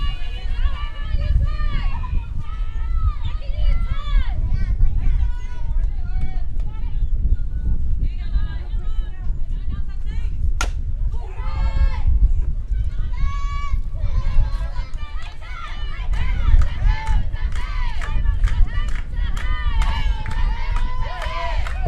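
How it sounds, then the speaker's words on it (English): Women's softball players chant and cheer in unison from the dugouts during a grand final between Otahuhu and Auckland Marist. The rhythmic group voices repeat throughout, moderately distant, with crowd noise and a commentator talking over them. "It's been a while since I've heard some chanting in the dugouts."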